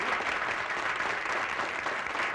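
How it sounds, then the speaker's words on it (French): Studio audience at a 1979 Canadian variety television evening applauds, a thick, uniform clapping that stays loud and sustained throughout with no speech over it. "on va les applaudir."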